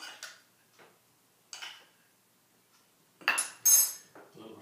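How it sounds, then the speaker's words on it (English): A spoon clinks against a little bowl while lemon juice and an oily base are spooned in and stirred, a few faint scattered taps followed by two louder close metallic clinks. "I put some spoonful into a little bowl."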